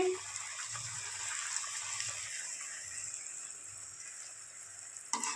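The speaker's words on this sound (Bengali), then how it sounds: "দেখো তেলটা গরম হয়ে যাচ্ছে, এটা ছেড়ে দিয়েছি।" Naan puri dough is dropped into hot oil and fries with a steady, fairly faint sizzle and bubbling hiss, broken by a few low thuds and a sharper clatter near the end.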